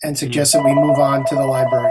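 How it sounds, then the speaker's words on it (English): A mobile phone rings during a committee meeting, its steady electronic tone sounding continuously beneath a person speaking. "I'm sorry, that's my phone."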